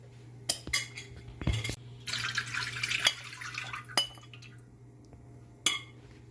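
Water pours into a pan of seasoned chicken on a stovetop for a couple of seconds amid clinks of metal utensils and cookware, with a steady low hum underneath.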